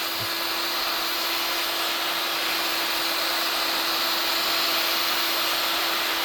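Heat gun blowing steadily on a Stihl FC 75 trimmer case, a loud, continuous airy roar with a constant tonal whine throughout and no pauses.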